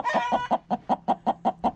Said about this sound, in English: And there is a broody hen.